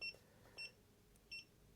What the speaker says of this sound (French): Donc ça bip.